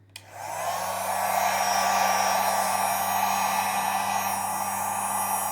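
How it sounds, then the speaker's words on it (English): A heat gun warms plastic on a Jeep Compass 8.4-inch screen, switching on with a click and then giving a steady, close, whooshing fan roar with a constant motor hum that runs to the end. "I had to use a little bit of heat gun."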